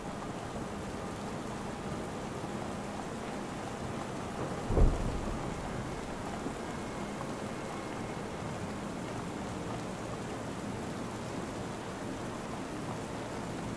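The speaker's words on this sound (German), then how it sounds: "Es beginnt zu regnen." Rain starts falling on a night in London, an even, dense patter of rain that continues throughout, broken by a single sharp thunder crack followed by a short rumble.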